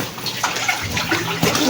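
Freshly caught fish poured into a basin, a short wet splashing and sloshing of water and bodies tumbling in, close and fairly loud, with a second splash near the end.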